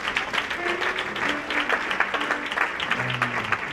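A church congregation claps hands together in a dense, steady patter of overlapping claps, fairly close and continuous, with voices and a few sustained tones mixed underneath.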